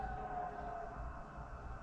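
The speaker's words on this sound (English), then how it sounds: "It's a lot of sirens of different types." Several emergency vehicle sirens of different types wail steadily in the distance, a continuous rising and falling tone over low background rumble, with no talk.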